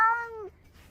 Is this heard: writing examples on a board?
no